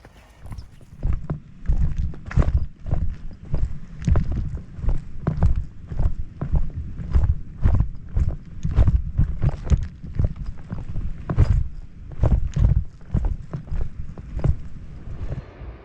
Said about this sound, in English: you always get to see the horses on the way back, ponies